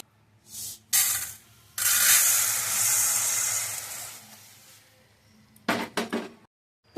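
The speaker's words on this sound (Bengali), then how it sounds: "খালি কড়াইতে মুগ ডালটা ভেজে নেবে।" Moong dal dry-roasts in an empty wok, with bursts of gritty rattling and scraping as it is stirred, then short choppy scrapes, separated by brief near-silent gaps.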